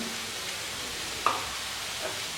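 Vegetables for spring rolls stirred and sautéed in a pan, a soft steady sizzle with one sharp clink of the spoon against the pan partway through and a fainter tap near the end.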